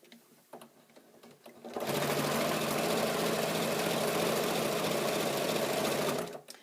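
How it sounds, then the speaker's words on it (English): A sewing machine runs steadily, stitching binding close to a folded edge, a loud close whirring hum lasting about four seconds, preceded by faint handling noises and ending abruptly. "So I'm stitching very close to that folded edge, mitering the next corner"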